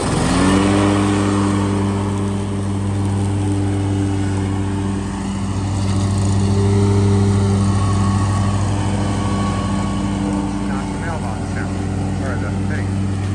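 A lawn mower cutting an overgrown lawn drones steadily at close range with a strong, even engine hum that swells slightly as it works, while voices speak over it.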